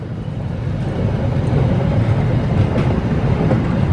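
Trains arriving at a station from two directions at once: a loud, steady low rumble of rolling railcars that builds slightly and holds throughout, recorded outdoors from a drone, with no voices.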